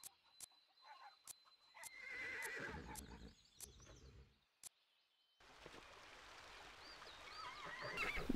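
A horse in the Pippa Funnell: Ranch Rescue game gives a clear whinny, surrounded by sparse soft clicks and a later burst of high, wavering honking calls against near silence.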